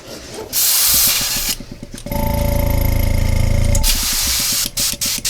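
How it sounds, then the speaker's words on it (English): An airbrush is back-flushed with water: loud hissing air bursts on either side of a steady, rattling bubbling buzz in the middle, close and continuous. "Take my finger hold in, back flush it a little,"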